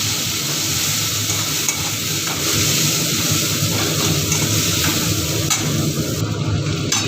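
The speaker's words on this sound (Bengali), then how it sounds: "পেঁয়াজটা একটু ভেজে" Onion frying in a pan while fish-head and Malabar spinach curry is cooked, a steady close sizzle with occasional stirring scrapes and no talking.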